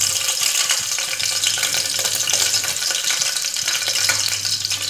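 Cinnamon, cloves and green chillies sizzle and crackle in hot oil for a liver gravy, a loud, steady frying hiss with occasional stirring scrapes throughout.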